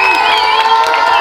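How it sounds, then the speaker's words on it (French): Young people at a youth home cheer and clap together in a short, dense burst of crowd noise, loud and close with shouts over steady applause. "Les gars, on peut applaudir bien fort, Rian, encore une fois."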